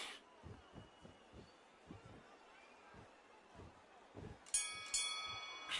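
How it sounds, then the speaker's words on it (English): A boxing round bell in the video game Undisputed rings out near the end, a bright metallic clang with a lingering ring over muffled crowd noise and punch thuds. "That bell could not have come soon enough for this guy."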